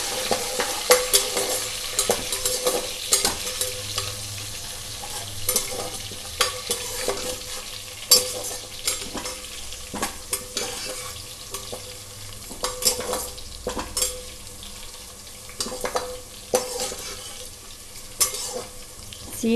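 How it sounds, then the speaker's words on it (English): Fenugreek seeds, fenugreek leaves and spices roast in a pot for bagara baingan eggplant curry, with frequent sharp scraping and clinking stirs over a constant low sizzle, close and fairly loud, and no talking. "We have to roast all of them."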